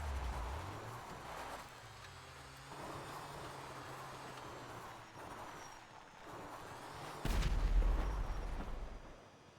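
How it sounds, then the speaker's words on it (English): A deep, booming explosion goes off in a PurpleRP roleplay video game, a low rumble that bursts in loudly near the end after a stretch of quieter engine-like droning. "What the hell just exploded?"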